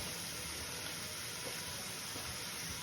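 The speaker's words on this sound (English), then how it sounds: "Saute these for a few minutes until they start to look soft" Vegetables for a beef and barley stew sauté in a pan, giving a faint, even hiss that runs steadily and alone throughout.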